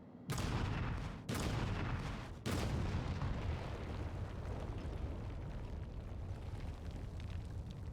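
A bomb explodes in the video game Final Fantasy XIV Dawntrail: three loud, heavy blasts follow one another within about two seconds, then a long rumbling roar that lingers and slowly settles.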